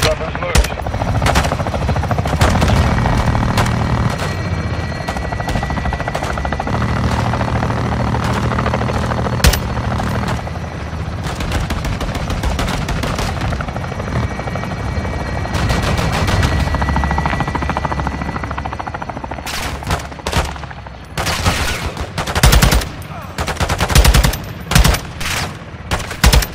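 Helicopter air support in Call of Duty: Modern Warfare II lays down sustained gunfire, a steady rotor-and-engine drone broken by dense bursts of firing that grow sharper and more clustered toward the end, with radio-style voices over it.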